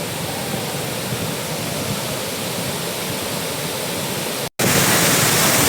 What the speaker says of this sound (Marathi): बघा धबधबा, बघा धबधबा